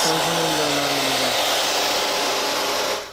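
A hair dryer blows loudly and steadily at close range, a harsh airy roar that cuts off abruptly near the end.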